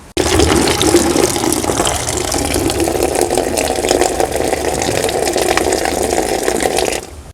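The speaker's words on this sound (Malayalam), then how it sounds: "ഇതിലേക്ക് നമ്മൾ നല്ല വെള്ളം നിറച്ച് ഒന്ന് നന്നായിട്ട് ക്ലീൻ ചെയ്യും" Water pours steadily into a plastic fish tank with a loud, continuous rushing splash that stops abruptly near the end.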